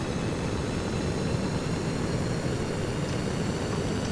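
In the Stormworks video game, a space shuttle lifts off at full throttle, giving a constant, loud, broadband rocket roar with no letup and no talking.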